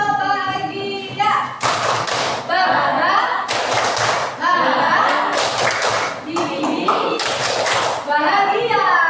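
Children in a classroom perform the rhythmic 'tepuk bahagia' clapping chant, sharp bursts of group claps in a patterned beat alternating with children's voices chanting and a teacher's voice at the start.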